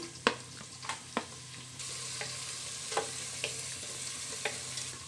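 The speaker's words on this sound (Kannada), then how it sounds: "ನೋಡಿ ಫ್ರೆಂಡ್ಸ್, ಈರುಳ್ಳಿ ಫ್ರೈ ಆಗಿದೆ." Sliced onions fry gently in a pan for chickpea pulao, a soft sizzle broken by repeated sharp clicks and scrapes of a spatula stirring, quiet and close, with no talking.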